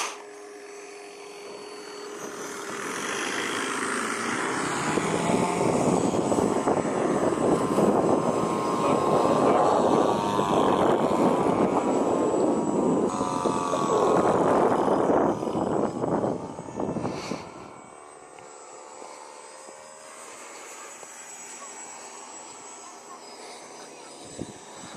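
A 50cc petrol-engined model warbird, a Bf-109 G or Fw-190 A-4, flying over a frozen lake at Easter: steady droning engine swelling loud as it passes close, then cutting out abruptly to quiet ambience after landing, with brief voices.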